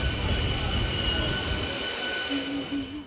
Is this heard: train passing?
yes